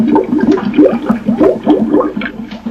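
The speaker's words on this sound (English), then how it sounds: "This loop of bubbles can now be re-recorded at various speeds." Tape loop of water bubbling, a loud rapid stream of glugging, burbling bubbles repeating steadily with no voices.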